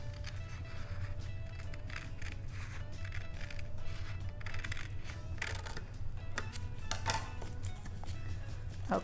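Scissors snip through paper at a crafting table during Mod Podge fall farmhouse decor work, giving a run of quiet, irregular clicking cuts close by, with no talking.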